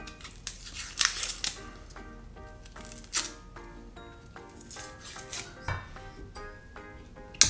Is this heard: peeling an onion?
yes